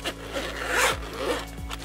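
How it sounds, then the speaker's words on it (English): Zipper on a hard carrying pouch sliding open, two or three close, crisp rasping pulls in quick succession with no talking. "And the zipper slides good."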